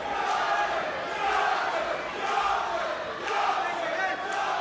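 A travelling Hemsworth crowd at a boxing undercard chants and roars "Yorkshire" in a loud, sustained, rising and falling group cry filling the arena.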